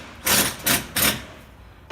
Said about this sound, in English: now we're putting the last of the screws in on this piece of tin back there